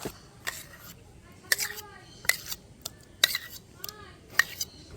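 A utensil scrapes and clinks against a bowl while palm fruit cake batter with yogurt is mixed, giving irregular sharp metallic taps and swishes up close, with a faint voice in the background.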